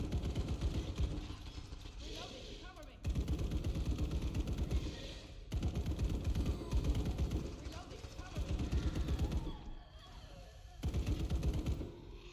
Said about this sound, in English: I'm going to use my assault rifle so I can keep the shots for the exterminator.